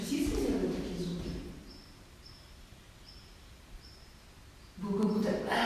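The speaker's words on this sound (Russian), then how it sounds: "Птиц встревожили, птицы орут как ненормальные." Short, high calls of alarmed birds repeat at a steady pace in a quiet, echoing abandoned school building, with people talking before and after them.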